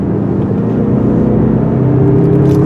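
2023 Mazda CX-30 Turbo Premium in sport mode, its turbocharged engine accelerating while climbing an elevation, a steady low rumbling drone heard from inside the cabin with no talk.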